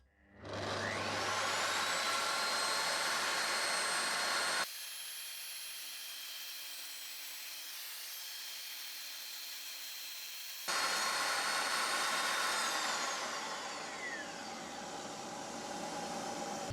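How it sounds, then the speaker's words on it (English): An Evolution R255TBL+ budget table saw rips pallet pine with vacuum dust extraction, a loud motor whine that spins up, drops to a quieter steady hum, then surges again as the cut continues, with no voices. "we're going to be starting with a bit of pine. This is just from a pallet, so it should be pretty easy cutting."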